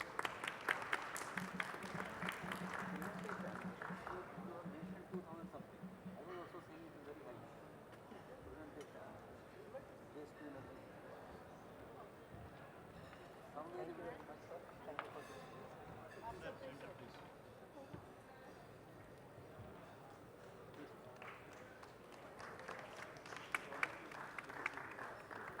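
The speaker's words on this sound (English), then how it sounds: "A huge round of applause" A conference audience at a sanitation and circular economy session applauds in a long, steady round that lasts throughout, with a voice occasionally audible over the clapping.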